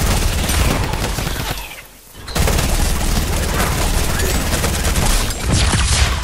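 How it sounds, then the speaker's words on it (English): Light machine gun fire in a shooter video game, a dense sustained barrage of rapid shots that cuts out briefly near the two-second mark before resuming at full loudness. "Light machine gun."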